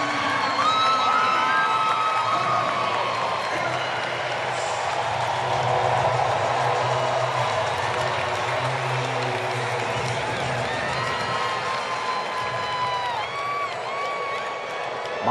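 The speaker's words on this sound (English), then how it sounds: "And the big crowd will welcome him." Big baseball crowd at a Marlins vs Braves game cheers and applauds a debuting Braves batter, a broad sustained roar with whistles and shouts, a commentator talking over it.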